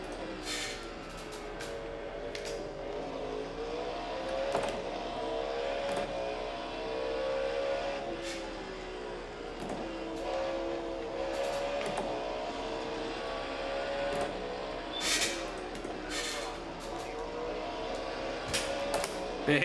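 Cadillac GTP prototype race car on the Monza circuit in the sim racing game iRacing, engine continuously revving and shifting through gears at high pitch, with repeated sharp upshift cracks over nearly twenty seconds, no voices.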